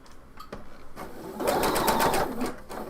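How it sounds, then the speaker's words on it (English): Sewing machine stitching fabric during a shawl sew-along, a short close run building up over a couple of seconds. "All right, so I'm sewing."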